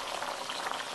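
Chicken curry gravy at a strong boil in a village-style kitchen, a close, dense bubbling and hissing that stays even for the whole moment.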